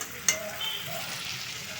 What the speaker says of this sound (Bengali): মাছটাকে ভালো করে ভাজতে হবে, ভেজে ঝোল করব।